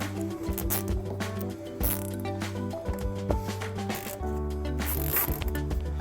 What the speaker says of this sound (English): we're going to secure it behind our bumper using some zip ties